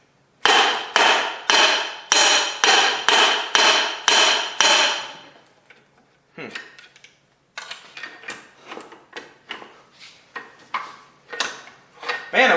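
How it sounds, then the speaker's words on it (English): Hammer blows on a cluttered workbench while working on a broken Kawasaki Mule: a run of sharp, evenly spaced strikes, a pause, then lighter and quicker taps at close range. "we're going to need the actual hammer"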